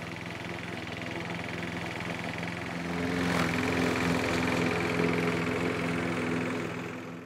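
Lawn mower engine running steadily while cutting grass, a continuous mid-pitched drone with a harmonic hum that swells slightly louder partway through, close and alone with no talk.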